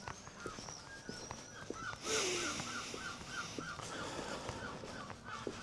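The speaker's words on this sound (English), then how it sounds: "Gulls being noisy." Gulls call noisily at night in Castletown. Repeated harsh, yelping calls come one after another at moderate distance over a low background murmur, with one louder burst partway through.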